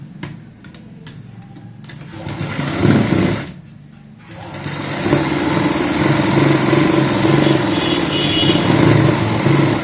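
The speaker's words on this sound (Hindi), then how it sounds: "अब इनको हम आपस में ऐसे निशान को मिलाते हुए यहाँ पे एक सिलाई लगाएंगे।" A sewing machine stitches marked pieces of a designer jacket meant to be worn over a kurti, running in steady loud bursts with a brief pause partway through, no voices over it.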